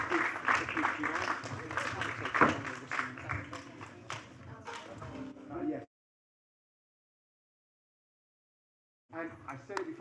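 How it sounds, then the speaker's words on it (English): A room full of seated listeners at a talk claps loudly for several seconds with cheering voices mixed in, then falls silent before a brief burst of applause returns. "we're going to stand up and we'll give her one last huge round of applause"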